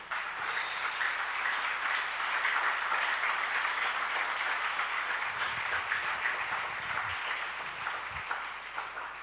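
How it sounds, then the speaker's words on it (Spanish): Church congregation breaking into sustained applause, a dense wash of clapping that holds steady for the whole stretch, filling the room at an even level with a few low thumps near the end. "Un aplauso de gloria a Jesús,"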